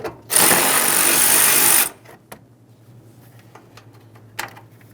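A power tool runs in one loud, steady burst of about a second and a half, removing 10mm mounting bolts from the battery tray of a 2007-2013 Chevrolet Silverado 1500, then the work area falls quiet apart from faint clicks.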